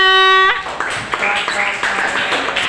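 A class applauds after a student presentation: a tonal voice or chime cuts off at the start, then scattered, uneven clapping from a small group follows, fairly close and moderately loud.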